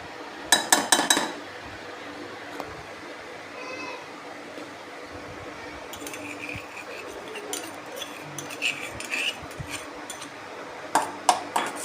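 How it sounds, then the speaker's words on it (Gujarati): Ground mustard seed, garlic and salt are added into a bowl for cucumber raita, making a few clusters of close metallic clinks and scrapes of a spoon against the dish, separated by quieter stretches. "પછી આજે આપણે રાઈ, લસણ, મીઠું વાટી છે એ આમાં નાખી દેવાનું."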